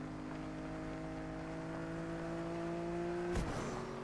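A car idles in the Fortnite video game with a steady low engine hum and faint whir held at constant level, then a brief sharp knock or click near the end, with no talk.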